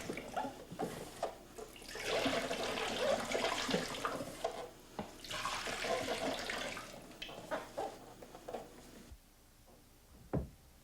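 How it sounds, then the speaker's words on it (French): Sulfite solution is poured back into a 4-litre container, giving two stretches of steady splashing liquid flow, close by with light knocks and clinks of the vessels and a final sharp tap. "Remarquez que la solution de sulfite est remise dans le contenant de 4 litres."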